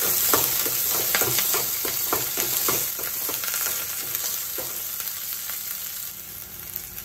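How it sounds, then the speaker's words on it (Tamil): Small onions and curry leaves sautéing in a pan for a village-style ground-masala sundakkai and chickpea kuzhambu, a steady close sizzle with repeated scraping stir strokes throughout, no voices. "இதோட 10 சின்ன வெங்காயம் எடுத்து கட் பண்ணி வச்சிருக்கேன், அதை ஆட் பண்ணிக்கலாம். அதோட கருவேப்பிலை. வெங்காயம் நல்லா வதங்கணும்."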